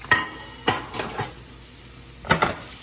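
Jackfruit sizzles softly in a pan while a utensil stirs it, giving several distinct scraping clacks spaced irregularly over the quiet frying hiss.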